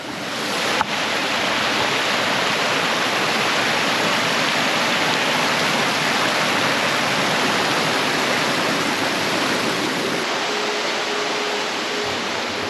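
Steady, dense rushing of a waterfall beside an ancient rock painting site, loud and continuous with no pauses, a single brief knock near the start and no voices.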